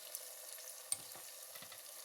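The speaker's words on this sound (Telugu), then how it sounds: "మసాలా వేసుకొని ఆయిల్లో బాగా ఫ్రై చేసుకుందాం" Onion, tomato and ground masala frying in oil for mutton curry, a faint steady sizzle with a few light scrapes of the spoon, close and quiet.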